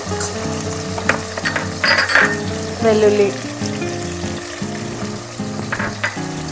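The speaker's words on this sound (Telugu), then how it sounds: "మొత్తం ఆయిల్లో వేయించుకోవాలి బాగా." Tomato, onion, green and dried chillies, cumin and garlic fry in hot oil for an Andhra gongura chutney, a steady close sizzle with brief clinks of a utensil and no talking.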